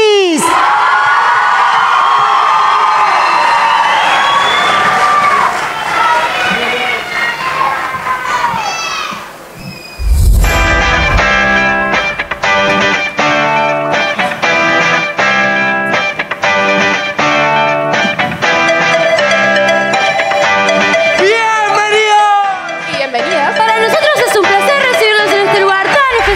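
Crowd at a live comedy show cheers, shouts and whoops, with children's voices among them, over music that starts about halfway through. A voice speaks before the cheering.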